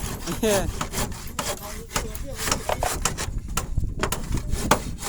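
A hand saw rasps through wood in quick back-and-forth strokes, close by and fairly loud, with brief faint voices.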